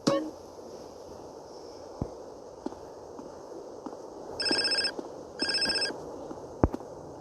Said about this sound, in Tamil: ஃபோன் அடிக்கிறான்